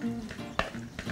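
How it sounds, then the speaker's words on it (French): Conch tartare being stirred with chopped onions and parsley, a short soft wet mixing sound with a brief louder scrape near the middle, close by and alone. "on mélange le tout."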